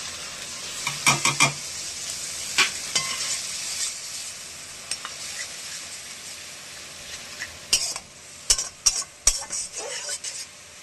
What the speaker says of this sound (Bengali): আমার পেঁয়াজ ভাজা হয়ে গেছে। এবার মশলাটা আমি দিয়ে দিচ্ছি।